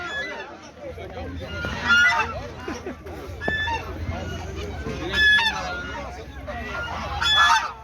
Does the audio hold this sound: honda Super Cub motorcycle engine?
no